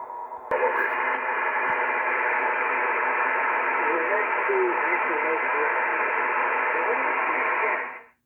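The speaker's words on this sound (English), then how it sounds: "So let me show you like what LSB would sound like." Kenwood radio tuned to lower sideband (LSB) mode, a steady band-limited hiss of receiver static starting after a click and holding evenly for several seconds before cutting off.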